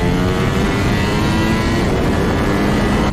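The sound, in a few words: Ducati Panigale V4S motorcycle accelerating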